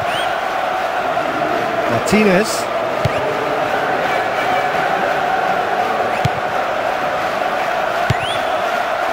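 A stadium crowd in the football video game PES 2023 roars steadily throughout, with a commentator talking over the broad constant cheering and a few sharp bursts standing out.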